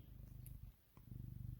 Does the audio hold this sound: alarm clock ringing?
no